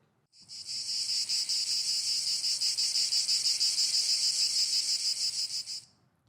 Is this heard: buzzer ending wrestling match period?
no